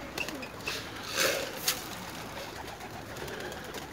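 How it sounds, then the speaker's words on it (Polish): Pigeons coo softly in a loft among a flock of about eighty, the calls faint and short against a background hiss. "Jest 80 świeżych gołębi."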